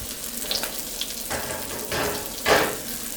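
Tuna burgers sizzle in a frying pan with a soft, steady crackle, and a few louder bursts of hissing come as patties are turned or stirred.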